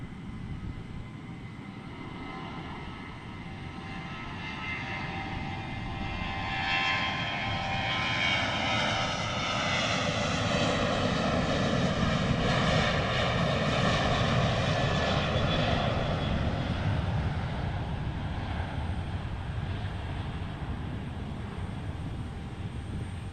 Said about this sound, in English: The long takeoff roll for that Alaska Airlines 737-800.